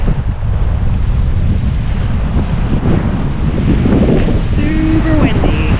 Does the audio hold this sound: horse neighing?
no